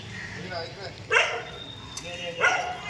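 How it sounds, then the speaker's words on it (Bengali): A few short dog barks ring out at a moderate distance, two distinct bursts with quiet pauses between, faint background murmur underneath. "আমাদের এখানে প্রচুর কুকুর আছে"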